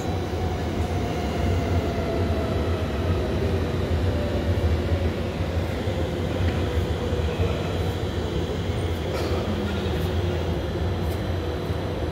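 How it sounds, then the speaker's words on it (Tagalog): A fast train rushes past a station area, a steady broad rumble of wheels and rail noise holding loud and continuous throughout without talk. "Ayan guys, yung train. Ang bilis."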